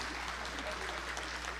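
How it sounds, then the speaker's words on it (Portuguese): Dense, steady applause from an audience filling a legislative chamber during a plenary session, a continuous even wash of clapping that holds at a constant level from start to finish. "E queria o aplauso de todos"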